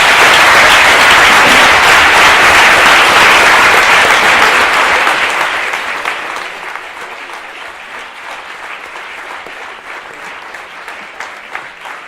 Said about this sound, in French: je vais vous demander de faire un tonnerre d'applaudissements pour le travail